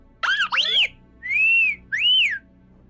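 A person whistles to get attention, two quick sliding chirps followed by two longer rising-and-falling tones, clear and close in a quiet room.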